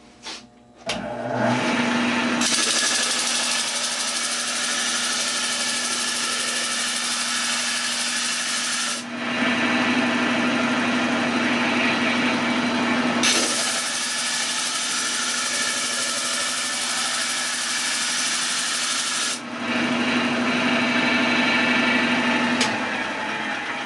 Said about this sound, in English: sanding wheel.